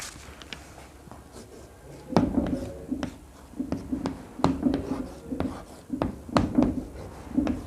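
Pen writing on paper during an English lesson, a run of short scratchy strokes and taps close by, moderately loud, with a faint voice in the background.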